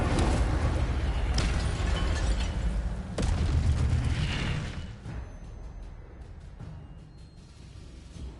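An Incendio fire spell cast in Hogwarts Legacy erupts as a loud, roaring whoosh with booming bursts. It rumbles for several seconds, then fades into quieter crackling with scattered faint clicks.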